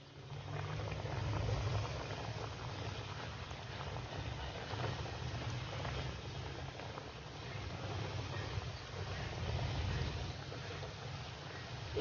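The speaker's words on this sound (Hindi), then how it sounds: "आइए अब ऑयल को गर्म कर लेने के बाद इसमें ये गोभी के पीसेस डालते जाइए।" Cauliflower pieces deep frying in hot oil, a continuous bubbling, boiling sizzle held at an even level for the whole stretch, close and fairly quiet, with no talking.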